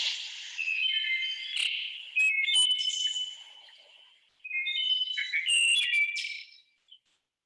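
A wood thrush sings two flute-like phrases, each a cluster of clear whistled notes ending in a trill, separated by a short silence, clean and close.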